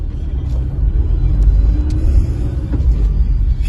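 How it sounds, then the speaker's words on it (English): A 2010 Nissan Micra 1.2 Acenta heads off on a test drive: a steady low engine and road rumble heard from inside the cabin, constant and fairly loud, with a few faint clicks and no talk. "Right, off we go for a little test drive."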